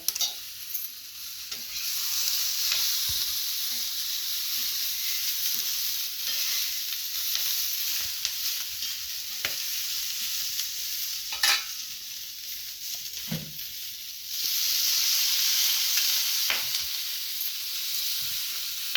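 Chopped tomatoes and garlic sizzle steadily in a pan for a village-style green chili thecha, a loud continuous frying hiss broken by occasional stirring scrapes and brief swells of louder sizzling, with no voices.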